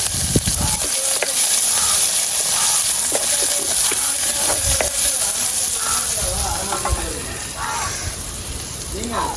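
Chopped onions fry in a pan for a jackfruit-seed stir-fry, a loud, continuous sizzle close by with occasional stirring scrapes, fading slightly toward the end; a voice speaks faintly underneath.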